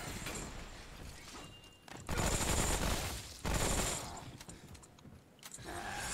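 Rapid submachine gun fire in Remnant from the Ashes, a video game, loud broadband bursts interleaved with surges of combat noise and brief quieter gaps.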